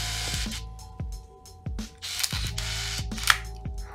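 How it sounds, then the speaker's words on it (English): Minolta TC-1 compact point-and-shoot film camera switching on and off repeatedly: a short mechanical whir with the front cover snapping open, followed by crisp clicks, several cycles over a few seconds, close and clear. "A small mechanical whir in the front cover flies open with quite possibly the most satisfying sound I have ever heard a camera make."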